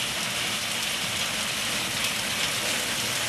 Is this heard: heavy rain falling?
yes